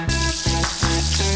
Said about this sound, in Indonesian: kita goreng dulu burung dara yang udah diungkep sebelumnya ke dalam minyak panas